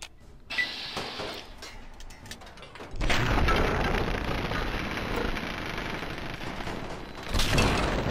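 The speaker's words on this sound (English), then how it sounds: "we're gonna throw pulse grenades at him" Pulse grenade blasts in the video game Fallout 3 set off a loud burst of crackling, rumbling energy that swells suddenly and sustains for several seconds, followed by a second surge near the end, no talk.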